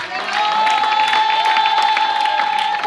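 A church congregation at a Sunday communion service cheers and applauds in acclamation, a loud, sustained crowd roar with clapping and mingled voices throughout.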